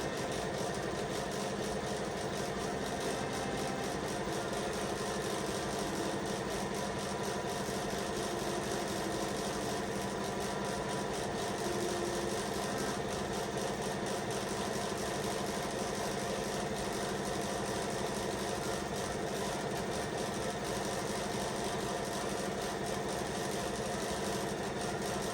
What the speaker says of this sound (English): So what I'm gonna do next is run a stitch down either side of this to hold it all together.